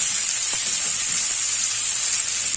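Ginger garlic paste cooks in a hot pan for a fenugreek and gram flour curry, giving a loud, steady, bright sizzle that holds constant throughout with no talking.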